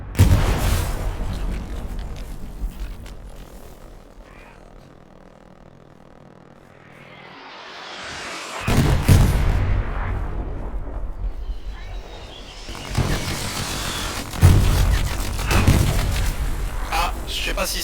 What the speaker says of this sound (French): J'entends que ça tire derrière moi.